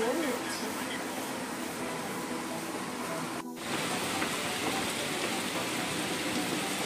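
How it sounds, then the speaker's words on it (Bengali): Heavy rain pours steadily during a cyclone storm, a dense continuous hiss filling the scene from start to finish, broken only by a brief dip in the middle. "জাস্ট দেখো কেমন বৃষ্টি।"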